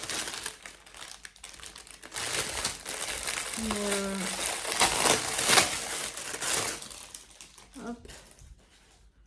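Crinkly plastic packaging from a Temu haul being torn open and crumpled by hand, loud, close and irregular, with a person speaking briefly over the rustling.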